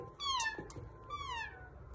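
A three-year-old child imitates a cat, giving two drawn-out, whiny meows in quick succession, close and fairly loud against faint room noise.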